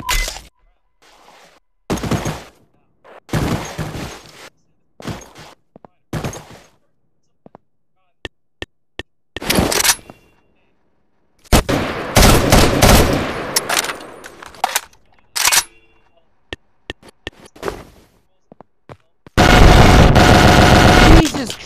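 Gunfire from a weapon in Garry's Mod, loud bursts of rapid automatic shots separated by silences, some short and some sustained for a couple of seconds, with scattered single cracks between.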